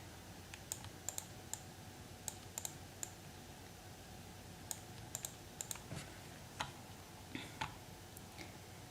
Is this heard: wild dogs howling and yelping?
no